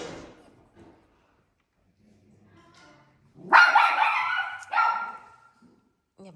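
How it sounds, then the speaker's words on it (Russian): Household dogs bark and yip close by in a short loud burst of several overlapping barks, after quiet moments with faint background sounds. "Это собаки, наши собаки."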